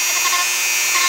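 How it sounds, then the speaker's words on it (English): Small Nova point rotary tool with a fine grit smoothing the sides of a broken turquoise stone, a brief steady high whir and grinding up close. "gonna smoothen out the sides with the Nova point, and these are sold by Diamond Pacific."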